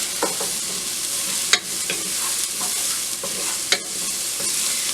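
Vegetables sweat in olive oil in a pan, giving a constant soft sizzle broken by repeated scraping stirs and a couple of sharper utensil knocks against the pan.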